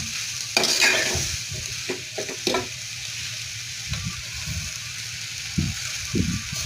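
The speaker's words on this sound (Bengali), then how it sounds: "পুঁইশাকগুলো ঢেলে দেওয়া হলো এবং এদেরকে ভালো করে নেড়ে চেড়ে মিশানো হচ্ছে।" Malabar spinach, shrimp, turmeric and chili are stirred together in a pan. A steady, soft sizzle runs throughout, and occasional scraping strokes come through close by.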